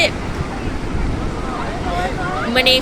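Sea waves wash onto the shore at Digha beach, a continuous surf rush under faint crowd babble and brief scattered voices nearby.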